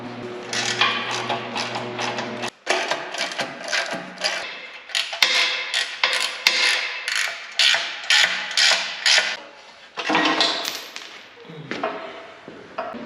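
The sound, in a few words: removing the front bumper from a truck chassis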